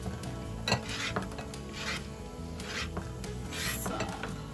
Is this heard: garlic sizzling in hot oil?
yes